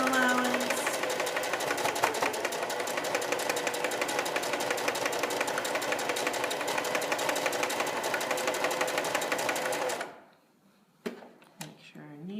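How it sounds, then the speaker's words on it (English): A sewing machine runs continuously as quilt pieces are joined with a quarter-inch seam, a steady close whir that stops abruptly, followed by a few soft handling clicks. "we're going to sew it together"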